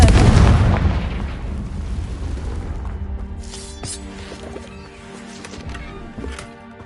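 A Confringo fire spell explodes in Hogwarts Legacy: one loud, close blast at the start that rumbles and crackles as it fades over several seconds, followed by quieter scattered game sounds with no talking.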